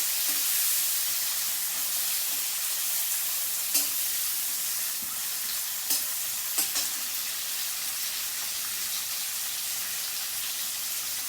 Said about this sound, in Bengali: এবার আমি কেটে রাখা পেঁয়াজটা দিয়ে দিলাম। পেঁয়াজটা একটু ভেজে নেব।